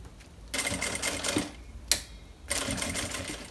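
A sewing machine stitching the main fabric of a baby bag, with two loud, close bursts of rapid mechanical stitching separated by a pause and a sharp click.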